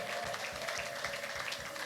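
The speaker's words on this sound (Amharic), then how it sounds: "አጨብጭቡ ለጌታ።" A church congregation claps hands together in rhythm, a steady, moderately distant patter of many palms during worship.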